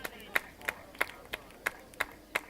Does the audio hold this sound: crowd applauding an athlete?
yes